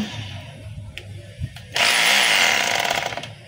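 DeWalt D25032 rotary hammer drill switching on and running loudly and steadily after a few quieter clicks and handling knocks, a dense continuous mechanical whine and rattle lasting to the end.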